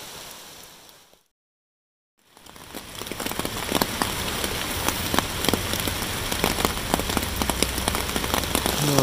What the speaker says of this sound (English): It started raining shortly after sundown, and it just continued since.